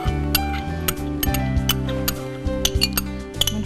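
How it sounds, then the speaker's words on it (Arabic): Garlic pounded with a pestle in a mortar along with hot pepper, giving repeated sharp clinking knocks at an uneven rhythm, close and fairly loud over a steady background hum. "بجيب مدقه الثوم برضه زي ايام زمان"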